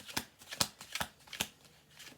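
A deck of cards being shuffled close up, a series of quick crisp riffling bursts in an uneven rhythm, with no talking.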